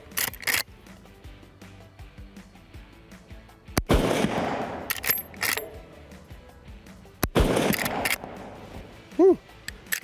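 A lever-action rifle fitted with a Timney trigger fires two sharp, loud shots a few seconds apart. Metallic action clicks and handling noise sit between the shots, and a voice speaks briefly.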